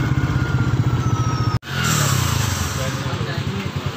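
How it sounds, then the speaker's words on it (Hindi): A motorcycle with a loose, sagging chain runs on a test ride, its engine thumping in a close, rapid, steady pulse that cuts out for an instant before rising again and settling back into the same beat. "गाड़ी का ट्रायल मार रहा हूँ मैं"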